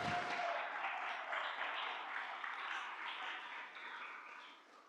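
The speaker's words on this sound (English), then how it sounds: "Give yourselves a round of applause." A church congregation applauds together at the closing ceremony of the church year, a dense wash of clapping that begins abruptly, holds steady and slowly tapers off toward the end, with no talking over it.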